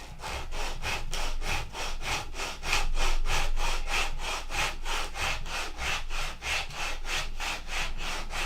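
80-grit sandpaper is worked back and forth on a Gen 4 horn clip in steady, rhythmic strokes, about three rasping passes per second. The strokes are close and fairly loud, with no talking.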